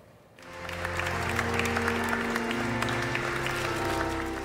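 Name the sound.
applause at Raffaella Carrà's funeral in Italy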